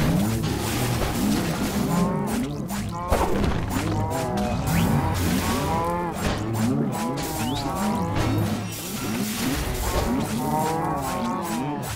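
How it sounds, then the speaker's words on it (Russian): Loud, overlapping moos of enchanted cows in the game Minecraft Dungeons repeat continuously, several animals lowing at once over a dense, steady background. "Зачарованная корова!"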